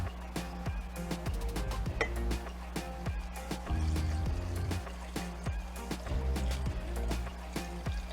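Vinegar trickles and pours into a bowl for a Filipino dipping sauce. Glass and dishes clink sharply and repeatedly in the foreground, and there is a little quiet talking.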